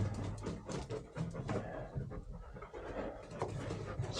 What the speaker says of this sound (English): Here comes the other dog.